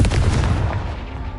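A Confringo blasting spell from a Harry Potter video game goes off as a single loud, close, booming explosion with a heavy low rumble that fades out quickly.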